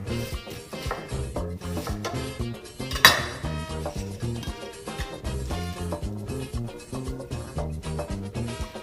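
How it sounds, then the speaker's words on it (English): A knife slices cabbage on a cutting board for Haitian pikliz, a fast steady series of crisp chopping taps with one sharper knock partway through, with no talking. "then I will slice it like this"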